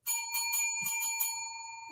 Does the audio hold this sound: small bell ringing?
yes